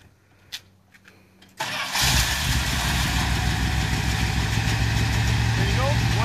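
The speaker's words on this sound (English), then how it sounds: "So let me start the engine just to show you." A few quiet clicks, then an old Dodge Class C RV engine cranks and catches abruptly on one crank, settling into a loud, steady idle rumble up close.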